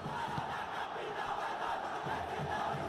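Football crowd at a Ceará versus Sampaio Corrêa Copa do Nordeste 2021 quarter-final, a continuous massed roar of fans chanting and shouting, dense and fairly distant, without clear individual voices.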